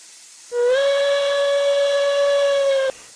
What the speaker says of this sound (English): This is the tier 1, or this is the tier 1 whistles. Let's hit it for the 5 whistles.